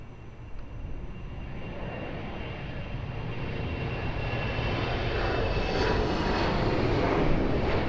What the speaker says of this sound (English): Embraer 190 rolling